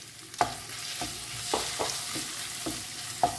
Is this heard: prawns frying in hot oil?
yes